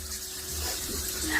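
Steady running water from a tap, a soft continuous hiss with low background hum, no talking.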